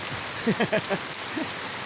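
Steady rain falls with a continuous, even wash of sound, while a voice talks faintly over it.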